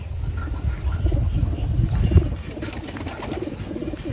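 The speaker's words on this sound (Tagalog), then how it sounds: "Dami ibon." Racing pigeons coo softly in a loft, low overlapping murmurs, a steady cluster of nearby birds with faint background noise.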